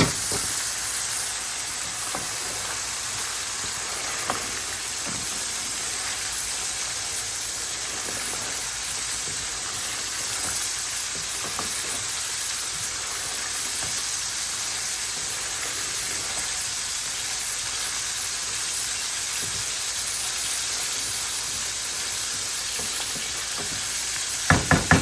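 Tomatoes and green chilies sauté in a pan with a continuous close sizzle. Occasional light clicks and scrapes of stirring run through the whole stretch, and no one speaks.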